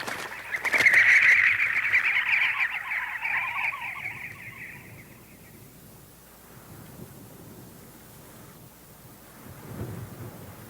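A desert bird, loaded with water soaked into its breast feathers, flies back to its chicks with a loud whirring burst of wingbeats in the opening seconds that fades away, followed by quiet outdoor ambience and a faint low rumble near the end.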